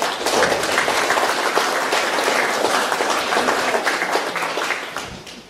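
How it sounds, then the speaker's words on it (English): A crowd at a year-end firefighters' gathering breaks into sustained applause, a dense, steady wash of many hands clapping that fades out toward the end. "give yourself a round of applause"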